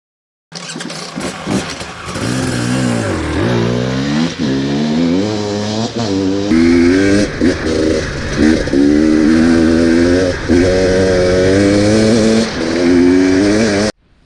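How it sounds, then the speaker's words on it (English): A 2018 KTM 250 XC-W TPI dirt bike engine revs loud and close, its pitch climbing and falling through repeated throttle blips before settling into a sustained, steady high rev. "Today I'm going to be taking the first ride on this brand new 2018 KTM 250"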